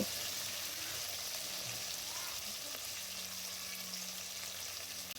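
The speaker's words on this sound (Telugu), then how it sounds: "టమాటా ముక్కలు, ఆనియన్ ముక్కలు కూడా వేసేసుకొని దూరగా వేపేసుకుంటే" Tomato and onion pieces frying for sambar in a pan, a steady soft sizzle that runs unbroken and fairly quiet throughout, with no voices.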